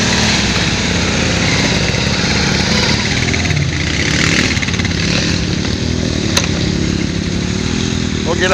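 A Can-Am Renegade 570 XMR ATV rides in two-wheel drive, its engine a loud, close, steady buzzing drone that holds throughout.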